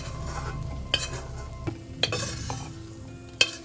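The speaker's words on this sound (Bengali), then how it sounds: "এবার ভালো করে পটল পেঁয়াজ সব ভালো করে এবার ভাজবো" Pointed gourd and onion frying in a pan, a steady close sizzle broken by a few sharp clanks and scrapes of a spatula against the metal.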